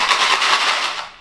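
Dry Annie's mac and cheese pasta shaken in cardboard boxes makes a brief, close, gritty rattling burst that tapers off after about a second.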